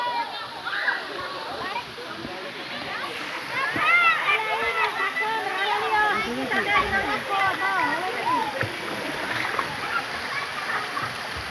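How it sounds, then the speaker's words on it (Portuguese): Water splashes and sloshes continuously in natural rock pools as people bathe, with a steady rushing flow underneath and lively voices and chatter throughout. "Nesse momento elas estão tomando banho, ó."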